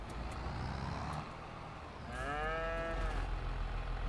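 Cows in the farming video game Zielonka give one drawn-out moo over a low vehicle engine drone, the call rising partway through and fairly close against the steady rumble.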